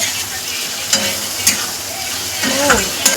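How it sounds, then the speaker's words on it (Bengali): Onion, ginger, garlic and tomato fried in a pan before kidney beans are added for rajma; a close, steady sizzle with spatula stirs and scrapes at intervals. "সব পেঁয়াজ, আদা, রসুন, টমেটো সব দিয়ে ফ্রাই করছি"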